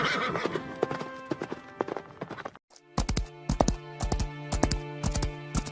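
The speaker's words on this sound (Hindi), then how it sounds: "राजकुमारी अपने घोड़े पर बैठ तेजी से घने जंगल की ओर निकल जाती है।" A horse gallops toward a dense forest, its hooves drumming in quick clip-clop bursts after a brief pause, with a whinny and a busy sound bed in the first half.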